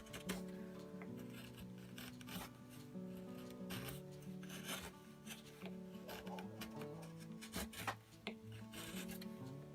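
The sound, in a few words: carving red cedar knife handle with small chisel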